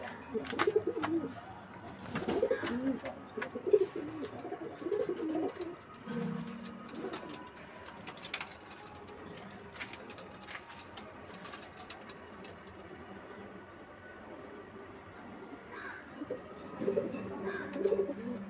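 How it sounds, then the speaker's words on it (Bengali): Tumbler pigeons, a flying breed kept at a home loft, coo repeatedly in soft low bursts close by, with a steady rustling background and no speech. "এই যে কবুতর দেখুন আপনারা কেমন লাগে"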